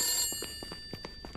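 A telephone bell rings in repeated short bursts, a fairly faint, evenly spaced trill heard alone.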